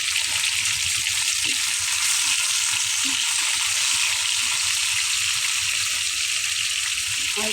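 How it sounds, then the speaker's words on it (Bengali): Bata fish fry in hot oil in a wok, a loud, dense, unbroken sizzle held close throughout, with small stirring knocks underneath. "আর একটু কড়া করে ভেজে নেব।"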